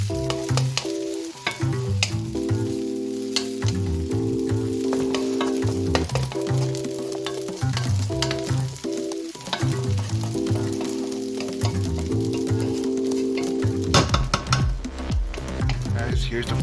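Onions sizzle and fry in a hot pan for shrimp fried rice, a steady crackling hiss stirred now and then, with a low hum running beneath the whole stretch.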